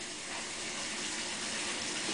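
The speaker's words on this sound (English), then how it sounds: "Did we start your bathtub?" Tap water runs steadily into a filling bathtub, a continuous broadband gush of pouring water heard clearly throughout with no talk over it.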